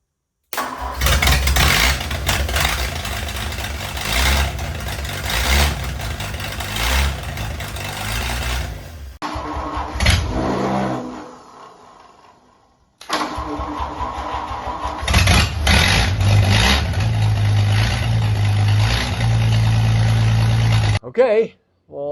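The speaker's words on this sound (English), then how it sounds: "that was the engine" A Ford flathead straight-six engine cranks, catches and runs loudly and steadily, then cuts out briefly before restarting and settling into a strong, continuous idle up close.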